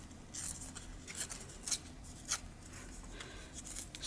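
Scissors cut up paper for a junk journal card, a series of crisp, close snips spaced irregularly over a faint background hush.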